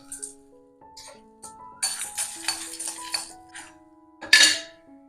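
Urad dal, red chilies and asafoetida roasting in oil in a kadai, with a spatula clinking and scraping against the pan in short bursts over soft background music.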